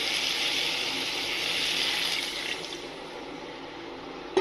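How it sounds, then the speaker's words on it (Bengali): Water pours steadily into a pan of cauliflower and potato curry with spices, a continuous splashing rush that fades out near the end, followed by a brief clunk. "জল দিয়ে দিলাম"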